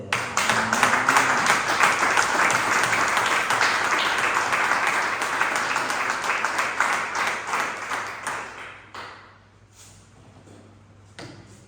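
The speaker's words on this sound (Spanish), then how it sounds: "Un fuerte aplauso" Applause from a church congregation rings out for several seconds, a dense field of clapping that thins and breaks into a few scattered, isolated claps before fading into near quiet.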